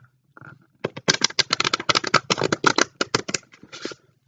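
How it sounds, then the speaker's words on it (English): Playing cards are riffle shuffled up close: a brief riffle, then a long run of rapid crisp flutters as the cards interleave, ending with a short final riffle. "we're going to do another riffle shuffle"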